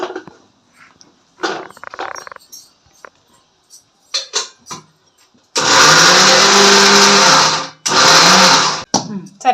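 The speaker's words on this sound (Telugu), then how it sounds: "దీన్ని మిక్సీ పట్టుకుందాం." A mixer grinder blends sweetcorn batter in two loud, sustained whirring bursts with a short pause between them. Lighter clatter and handling noises come before the bursts.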